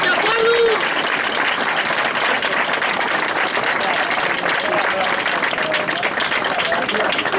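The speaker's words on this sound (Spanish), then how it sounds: "Un aplauso a todos vosotros y vosotras," Full audience applause at a circus show, continuous dense clapping throughout, with a brief whistle or shout near the start rising above the crowd.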